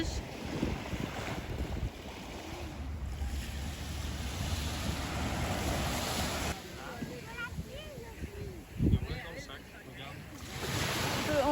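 Ocean surf on a beach in late January, heard while sailing: a steady wash of waves under heavy wind noise, with people talking over it.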